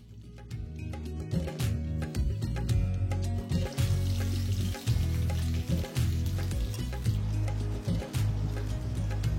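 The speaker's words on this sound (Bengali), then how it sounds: "এবার একইভাবে আমি বাকি মাছগুলো ভেজে নিচ্ছি" Hilsa fish pieces fry in hot oil in a pan, giving a loud, steady sizzle that crackles and surges irregularly throughout, close up, with no voices.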